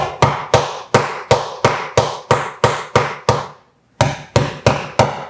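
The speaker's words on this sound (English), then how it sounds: "I can use my hammer and just hammer them down." A hammer drives handle fasteners down into the lid of a Featherweight sewing machine case: a dozen sharp, evenly paced strikes, close and loud, with one brief pause before the last few blows.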